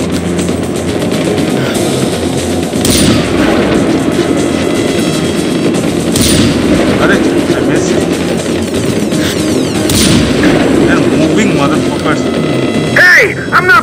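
Enemy gunfire in Far Cry 4 rattling in bursts through a firefight, loud and fairly close, with an engine-like drone underneath and shouted voices over it.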